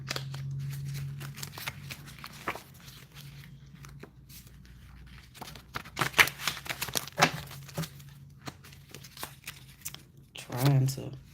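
Tarot cards shuffled by hand in soft papery riffles and crinkly snaps, close and intermittent, with a voice speaking over parts of it and a faint low hum underneath.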